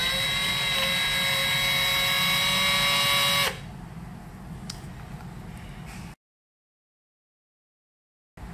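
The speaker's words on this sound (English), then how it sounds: "push the button on the drill, and the drill will spin your sample holder" A high-pitched drill spinning a centrifuge sample holder whines steadily for a few seconds, then cuts off and winds down, leaving quieter handling noise and then silence.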